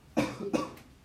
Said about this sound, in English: He was coughing right in my ear